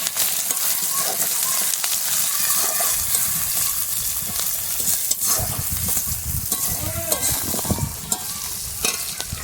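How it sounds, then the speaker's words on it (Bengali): Chopped onion being stirred as it fries in hot oil: a loud, steady sizzle close by, broken by scraping stir strokes and bubbling spits. "দিয়ে দিলাম, ভালো করে পেঁয়াজ ভাজতে হবে।"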